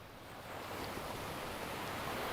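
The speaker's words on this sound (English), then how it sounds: "What an amazing morning out here on the beach." Ocean surf rolls onto a Florida beach in the morning, a soft broad wash that rises after the first half second and then holds steady and faint, with no talking.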